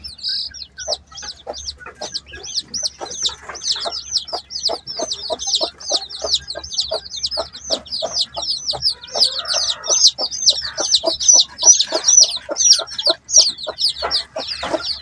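Chickens cluck in a rapid, rhythmic series of short, sharp calls, close and fairly loud, continuing steadily throughout with high chirping peeps layered above.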